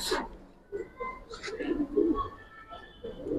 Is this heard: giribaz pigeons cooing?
yes